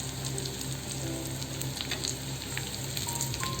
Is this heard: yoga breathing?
no